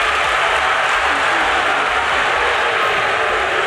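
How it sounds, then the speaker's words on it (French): A large audience at a national ceremony in Côte d'Ivoire claps in a thick, continuous roar of applause that holds at a steady, loud level throughout. "vous allez l'applaudir encore plus fort que vous n'avez jamais fait"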